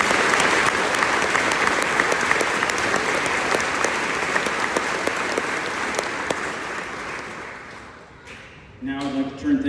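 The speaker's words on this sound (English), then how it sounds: "Please join me in showing our appreciation with a round of applause." A large graduation crowd at the Ansonia class of 2023 ceremony claps in a thick, sustained wave that slowly thins out, and a speaker's voice begins as the applause dies away.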